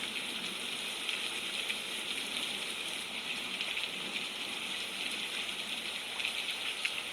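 Pouring rain on a very rainy day makes a constant, thick wash of falling drops and gushing water, unbroken and evenly loud from start to finish.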